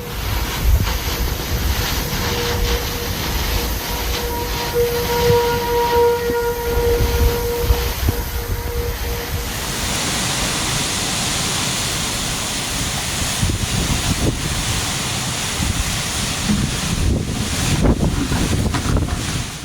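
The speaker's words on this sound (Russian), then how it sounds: "обрушилась стена ураганного ветра и ливня, охватив весь район Чикаго в вечерний час пик" Hurricane-force wind and driving rain lash Chicago during the evening rush hour at about 116 km/h, a loud, steady roar of gusts buffeting the microphone throughout, with no voices.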